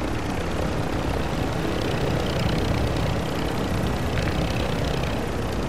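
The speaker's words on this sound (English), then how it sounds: "No, they're in this chopper," A helicopter flies in the video game Call of Duty, a loud, steady rotor and engine roar that holds constant throughout with no voices over it.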